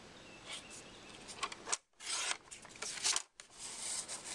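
Scissors slice through paper for a mini album double pocket page in a few close, rasping snips, with two short pauses between the cuts and no voices.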